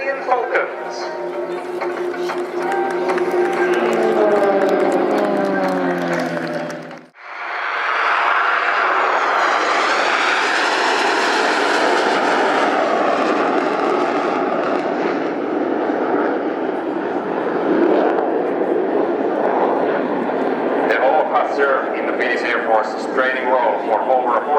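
Royal Jordanian Falcons aerobatic display aircraft at the 2024 Royal International Air Tattoo, engines roaring loudly and steadily throughout, swelling and shifting in pitch as the formation passes, with a commentator's voice over the noise.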